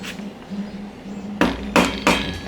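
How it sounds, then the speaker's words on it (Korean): Three sharp taps from a plastic or rubber mallet driving a part into place during a CYC X1 Stealth GEN3 e-bike kit install, evenly spaced and close, after a stretch of quiet background hum. "플라스틱 망치나 고무 망치로 톡톡톡톡 쳐서"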